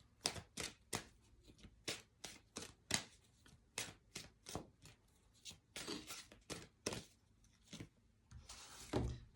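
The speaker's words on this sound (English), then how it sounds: "I'm going to pull one other card from Mary." Oracle cards from a Mary Magdalene deck are shuffled and pulled by hand in a quiet room: a quick run of crisp, close riffling flicks and soft slaps, irregular in rhythm and fairly faint, with no voice.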